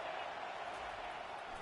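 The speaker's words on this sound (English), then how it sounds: "this crowd is tearing the lid off this place" Dense, steady roar of a large crowd cheering loudly at a college football game on a third down, a continuous wall of noise with no breaks, with faint commentary under it.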